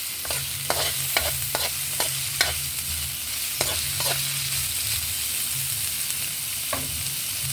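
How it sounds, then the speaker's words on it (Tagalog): Garlic, onion and ginger sautéing in olive oil, a constant sizzle broken by repeated sharp spatula scrapes and taps against the pan, with a low hum underneath. "magisa tayo ng bawang, sibuyas at luya"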